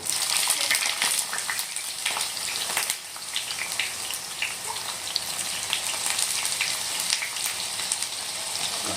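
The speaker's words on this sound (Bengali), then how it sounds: "তেল আমাদের গরম হয়ে গেছে, আর এখন বেগুনগুলো দিয়ে নেব" Steady, crackling sizzle of eggplant frying in hot oil, close and continuous, with a few sharper pops and no voices.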